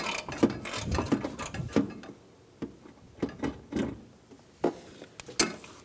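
A 10mm socket wrench removes a bolt from the frame rail of a 2014–2019 Toyota Highlander, giving close, uneven ratcheting clicks and metallic knocks in short bursts with brief pauses between them.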